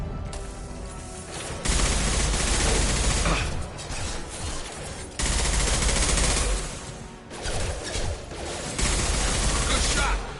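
Sustained bursts of automatic gunfire and heavy weapon fire in the sci-fi shooter Mass Effect 2, loud and dense with rapid rattling volleys, brief lulls between bursts and faint voices under the combat.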